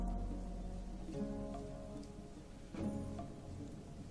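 Steady rain pours down in the video game Gothic, a continuous wash of falling water with a faint low rumble beneath it, heard alone.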